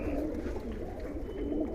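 Kaldom pigeons coo inside a tidy loft, a soft, continuous low murmur of several birds close by, with no talking.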